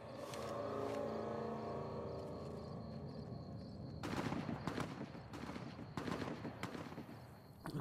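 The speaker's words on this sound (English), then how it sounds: "Looks like they're shooting the ghoul." Gunfire in the video game Fallout: New Vegas, several sharp distant shots cracking out one after another in the second half over a low rumbling game background.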